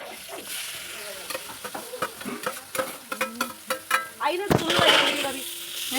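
Onions sizzle and fry in a pan as a spoon stirs them repeatedly, steady sizzling punctuated by rhythmic scraping strokes, close and clear, with a brief louder clatter near the end.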